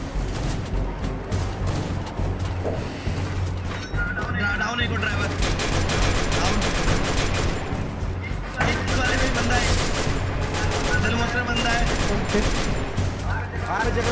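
M249 machine gun fire in a PC shooting video game: dense, sustained bursts of rapid shots run throughout, loud and continuous, with an excited voice talking over the gameplay.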